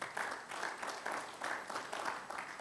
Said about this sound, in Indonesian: Yang setuju yuk berikan tepuk tangan.